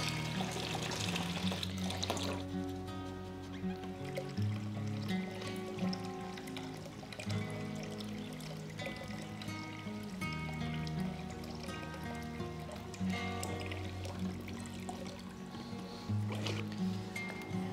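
Water from a planted guppy and shrimp aquarium siphoned into a bucket, a steady trickling and pouring stream heard continuously and fairly faint, with light splashy bubbling.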